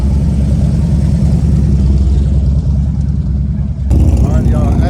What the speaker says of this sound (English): As y'all can see and hear, plenty of bikes out here today.